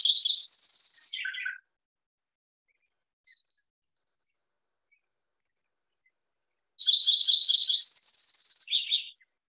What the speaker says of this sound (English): And here's the Lincoln sparrow song.